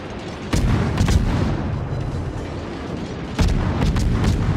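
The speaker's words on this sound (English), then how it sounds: "the Musashi's 460mm guns just overmatch the bow completely" Heavy 460mm battleship guns of the Musashi fire in World of Warships, several loud booming salvos with deep rumbling tails, spaced a few seconds apart.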